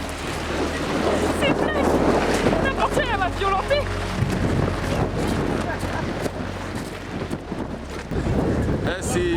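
Strong wind blowing across an Icelandic black sand beach, a loud, steady, roaring buffet against the microphone that continues throughout, mixed with the sound of surf and with people talking under it.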